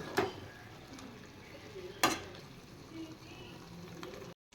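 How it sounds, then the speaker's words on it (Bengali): Vegetables, including okra, are stirred and fried with spices in a pan. A quiet, steady sizzle is broken by two sharp clinks of a utensil against the pan. "সবজিটা একটু মশলা সহ কষিয়ে জলটা একদম শুকিয়ে দেব"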